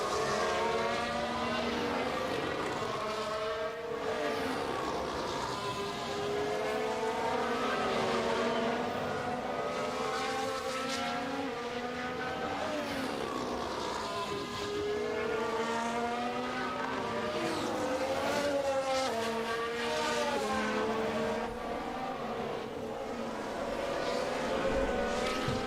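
Formula 1 race cars in the F1 Manager 2022 game run line astern around the Singapore street circuit, a continuous loud engine whine that rises and falls through the gears as the pack passes, with no voices.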